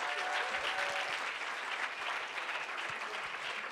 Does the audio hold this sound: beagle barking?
no